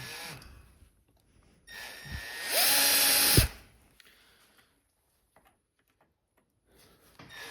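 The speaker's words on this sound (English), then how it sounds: "Next up, we have our left-handed drill bit. So that way, this should help it back out as it drills in." A left-handed drill bit bores into a snapped bolt on a wrecked Harley-Davidson Sportster's suspension, a loud, steady power-drill whine lasting about a second after a short spin-up, with quieter clicks and handling noise around it.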